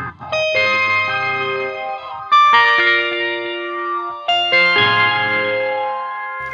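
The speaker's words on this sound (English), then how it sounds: "come down to this kind of ethereal, spacey sci-fi sound" A guitar through an ethereal, spacey sci-fi effects patch plays three ringing chords, each struck cleanly and left to shimmer and decay with chorus and echo, alone and fairly loud.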